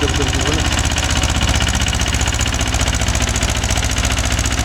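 A loud Mahindra 265 DI tractor diesel engine running close by, its steady rapid low thumping chug continuing evenly without pause.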